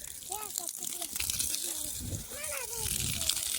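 Water gushes steadily from a pipe into onion field beds on a farm, with a continuous rushing and sloshing sound. Voices talk intermittently over the flow.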